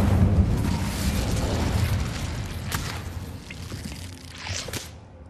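A fiery Incendio spell blast from the video game Hogwarts Legacy, a loud rushing burst of flame that roars up and then fades, with a second whooshing flare near the end over game background noise.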